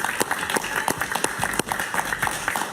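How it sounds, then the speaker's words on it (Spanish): Studio audience applauding a guest on a television talk show, a lively spread of crisp claps at moderate distance, steady and continuous with no voices on top. "Un aplauso para Fabio, ¿eh?"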